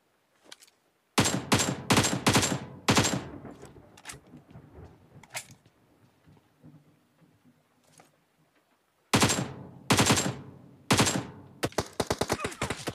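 PUBG gameplay gunfire comes as loud rapid automatic bursts at the start, a quieter stretch with scattered distant shots, then dense heavy firing again near the end.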